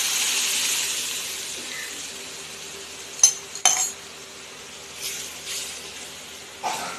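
A spoon stirs a milk and flour mixture for white sauce pasta in a pan over a soft, steady background hiss, with a few scattered scrapes and light metallic clinks.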